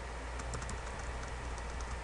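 Steady typing on a computer keyboard while erasing text, close clicking keystrokes over a constant background hum, no speech.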